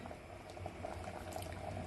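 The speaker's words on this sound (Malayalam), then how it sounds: "ഇപ്പോ തേങ്ങയുടെ 2ാം പാല് ചേർത്തിട്ട് നല്ലോണം തിളച്ചിട്ടുണ്ട്." Soft, steady bubbling of second-extract coconut milk boiling in a pot for wheat payasam, a quiet continuous simmer with small popping bubbles and no talking.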